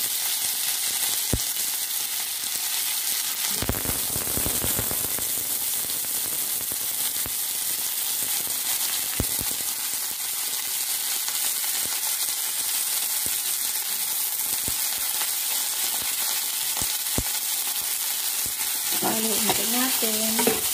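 Hot dogs and squid balls frying in a pan make a loud, continuous sizzle for the whole stretch, broken by occasional clacks and scrapes of stirring, with a short burst of louder spattering early on.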